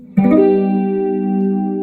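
One strummed electric guitar chord with an effects-laden tone, struck sharply and left to sustain evenly to the end.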